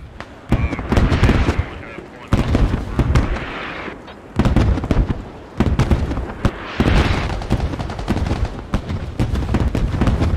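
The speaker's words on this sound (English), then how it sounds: "Comes the artillery." Artillery shells explode in the military shooter SquadOps, several heavy booming blasts with rumbling tails spaced a second or two apart, loud and fairly close, with bursts of gunfire and crackling between them.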